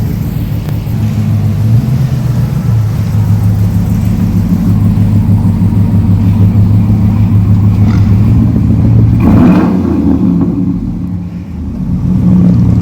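A 2019 Ram 1500 pickup fitted with helper air bags drives on a test run, its engine a steady close low rumble with a brief rise in revs near the end, no talking.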